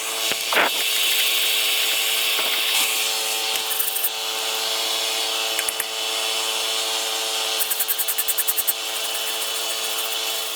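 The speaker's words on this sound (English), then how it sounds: "So we're gonna wire brush everything." Aluminum being scrubbed with a powered wire brush before welding a boat dock repair, a loud continuous harsh whirring grind with a steady hum and brief rattling bursts as the bristles catch the metal.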